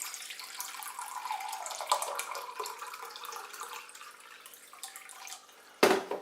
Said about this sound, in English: pour another mug full of water